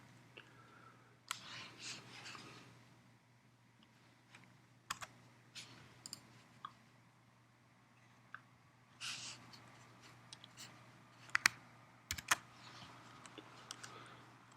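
Quiet, scattered keystrokes on a computer keyboard as the root password is typed at a VMware Log Insight appliance console, with soft isolated taps and short bursts over a faint hum.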